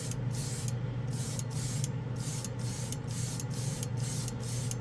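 An airbrush with a Mac valve sprays Alclad chrome paint onto Lexan, giving a steady, close, airy hiss with a faint regular pulsing throughout and no talking.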